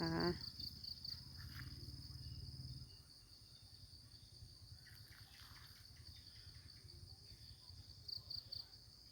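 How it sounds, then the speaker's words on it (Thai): Steady crickets chirping at dusk in a quiet evening setting, with faint bird calls and a brief low rumble at the start. "มีทั้งเสียงนกเสียง จิ้งหรีดร้องเต็มไปหมดเลยนะ"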